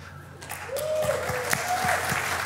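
Audience applause at a teaching on evil, starting softly and swelling into steady, dense clapping, with a voice over the top.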